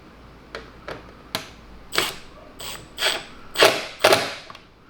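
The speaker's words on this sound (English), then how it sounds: "We'll go ahead and tighten it down while holding the T in place." Fitting being tightened on a T connector for C8 Corvette engine bay lighting: a series of sharp, irregular clicks and creaks that grow louder and closer together, nearby and without talk.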